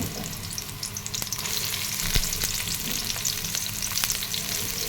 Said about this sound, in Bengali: পেঁয়াজ আর কাঁচামরিচ আমি একসাথে দিয়ে দিলাম। তো পেঁয়াজটা ভেজে নিই।